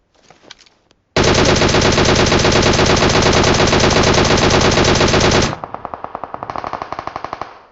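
Rapid automatic gunfire in the PUBG Mobile video game on the Erangel map: a dense, loud sustained burst of shots for several seconds, followed by quieter, echoing individual shots spaced out.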